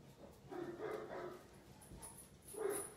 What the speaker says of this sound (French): Vous entendez, le gros chien, il fait ouf.